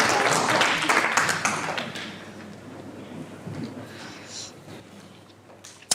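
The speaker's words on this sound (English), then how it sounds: "give Maggie a round of applause, please, guys" Conference audience applauding after a speaker is introduced, a dense broadband patter loudest in the first two seconds and then thinning into scattered claps and room noise.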